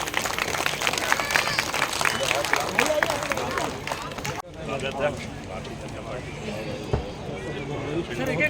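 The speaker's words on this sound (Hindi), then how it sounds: "जोरदार तालियों से स्वागत करें इनका" A crowd at a BJP party joining event claps in loud sustained applause to welcome new members, with babble and voices mixed in, then thinning to scattered clapping and chatter.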